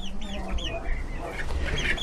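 Chickens and chicks cluck and chirp close by in short, busy calls while being fed earthworms in a farmyard, with quiet background noise.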